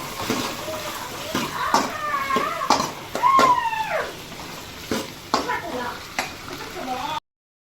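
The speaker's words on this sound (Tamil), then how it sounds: "தக்காளி போட்டாச்சு, போட்டு வதக்குறோம்" Tomatoes sautéing and being stirred in a pan, a soft sizzle broken by repeated scraping stirs, with a voice talking over it.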